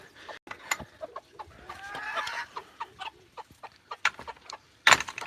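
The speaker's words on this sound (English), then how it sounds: "These are more chickens." Several chickens cluck and squawk nearby, irregular bursts of calls overlapping, with one louder sharp squawk toward the end and no talking.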